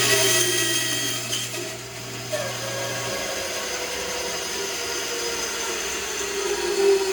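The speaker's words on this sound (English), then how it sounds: "it's got an automatic stop on there, so it will automatically chop it to the right" A power saw chopping a guitar string nut blank to width against an automatic stop: a loud continuous motor whine and cutting drone, with a hum that drops out partway through, steady and close.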